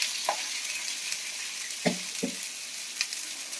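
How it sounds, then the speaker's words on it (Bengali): Fish sizzles as it fries in a pan of hot oil, a steady soft hiss broken by a few faint clinks and pops, heard fairly close with no voices. "আর এদিকে মাছ ভাজা হচ্ছে,"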